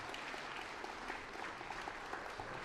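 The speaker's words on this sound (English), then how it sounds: "let's give a round of applause." Audience applause at the 2017 City of Destiny Awards ceremony, steady and dense clapping from a crowd that runs evenly without a break, heard from a moderate distance.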